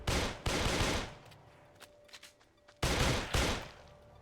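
Gunfire in a zombie city-building video game, two close dense bursts of rapid shots separated by a quieter gap with scattered clicks.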